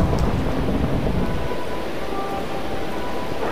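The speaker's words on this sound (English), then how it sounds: "That's lightning." Thunder from lightning in a modded video game, a loud deep rolling rumble that fills the scene and slowly eases, with rain-like hiss underneath.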